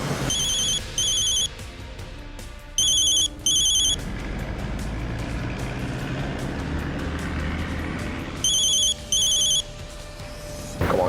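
An old-style telephone bell rings in three paired bursts, loud and close, separated by stretches of engine-like rumble and background noise.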